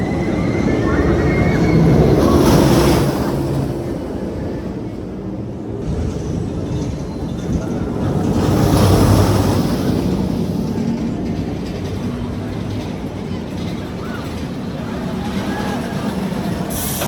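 A roller coaster at Kings Dominion amusement park rumbles along its track, a loud sustained roar swelling and fading with rattling wheels and wind noise, with riders' voices faintly mixed in.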